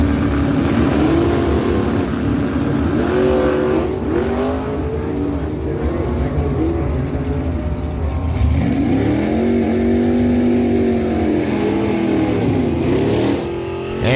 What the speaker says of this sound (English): Andy Charlton will line up beside him in that 73 Mercury Comet GT from Willow Grove, New Brunswick. It's got a 441 small block Ford stroker power